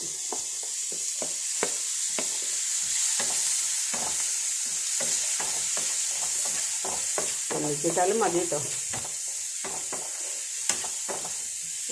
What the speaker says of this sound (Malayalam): മുളക് പൊടി ആ എണ്ണയിലൊന്ന് മൂക്കണം നമുക്ക് ബീറ്റ്റൂട്ട് ആദ്യം ഇട്ട് കൊടുക്കാം